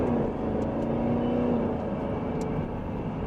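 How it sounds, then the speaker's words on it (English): Steady car engine drone while driving on the road, a continuous low hum with road rumble and no notable revving, heard from inside the cabin. "I hope the engine's not too loud for you."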